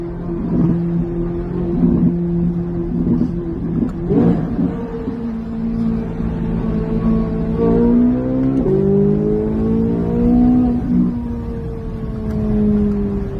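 Chevrolet Corvette C8 Z06 engine heard from inside, dropping and rising in pitch through a series of downshifts, with the exhaust rumbling and burbling loud and close, and no talking.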